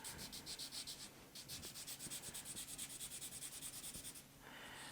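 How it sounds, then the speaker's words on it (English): Quick back-and-forth sanding strokes rasp steadily against the bottom of a small hard 1:200 scale model Titanic anchor chain part, soft and close, with a short pause partway through. "very carefully give it a little bit of a sanding"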